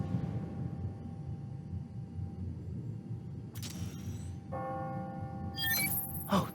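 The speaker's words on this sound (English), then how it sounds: "Ringing on the hour. When I hear those bells" Bright clock-tower bells from Marvel's Spider-Man: Miles Morales ring the hour over a low rumbling background, with a couple of clear tones striking near the end, fairly faint.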